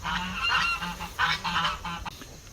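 Geese on a farm honk in several close, nasal bursts, overlapping calls rising and falling over a couple of seconds with no voices.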